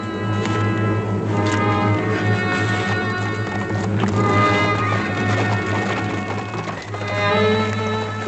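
Hooves clip-clop in a busy rhythm over a humming, music-like background, suggesting several horses moving off at pace.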